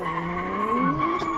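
A Rocket Bunny S15 drift car squeals its tires in a sustained, wavering howl, close and steady over a brief stretch during a semi-pro qualifying run at Katowice airport.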